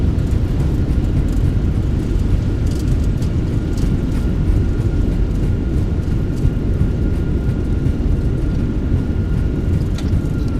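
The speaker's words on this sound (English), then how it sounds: "Reversers are out." Airbus A321 thrust reversers roaring during a windy landing rollout in a flight simulator: a loud, steady, broadband rumble with engine whine holding constant throughout, no voices.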